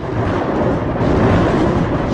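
Deep thunder rolls continuously through a thunderstorm, a loud broad rumble with no distinct crack, steady from start to finish and with no voices.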